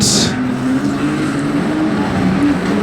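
A pack of street stock race cars starting a heat at Redline Raceway, a loud continuous roar of engines close by with no talk.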